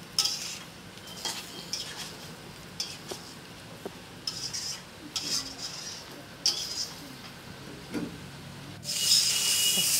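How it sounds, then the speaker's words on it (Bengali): Fish roe fries in a pan while a wooden spatula stirs it, making repeated scraping and rubbing strokes against the metal. A louder frying hiss rises near the end, and there is no speech. "এর মধ্যে এখন ডিমগুলোও দিয়ে দিলাম, দিয়ে ভালো করে কষাবো।"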